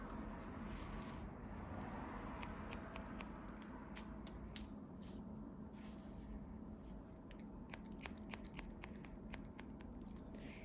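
Scissors snipping hair during a stacked A-line bob haircut, a quiet run of quick, crisp blade clicks scattered over a soft steady background hiss, close but faint.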